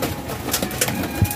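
Pigeons coo softly and shuffle about nearby, with a low coo and brief fluttery movement sounds over a steady background.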